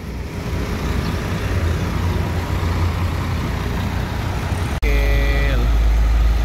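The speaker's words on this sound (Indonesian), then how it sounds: "Wih, mantap suaranya. Scania. Garing mesinnya." Diesel engine of a Scania bus idling and running close by with a deep, continuous rumble and road noise; a sharp cut is followed by a louder low drone and a brief high whine, with a voice talking over it.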